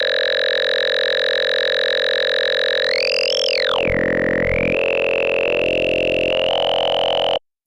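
GrainTable granular synthesizer patch with FM and detuned oscillators, holding a steady sustained electronic tone whose upper partials sweep up then dive down and settle, continuous and loud until an abrupt cutoff at the end.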